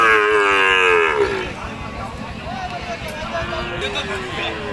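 Cattle and calves moo loudly up close at a cattle market in Nilphamari, Bangladesh, a long low bellow followed by further moos amid a busy crowd of voices and market bustle.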